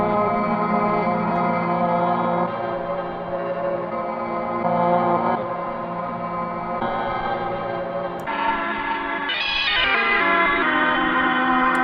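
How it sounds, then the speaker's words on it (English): Looping noise from a Chase Bliss Audio Blooper looper pedal, a layered, droning processed texture with echo and chorus that shifts and swells steadily throughout, loud and continuous with no talking. "I got a weird noise loop going on here."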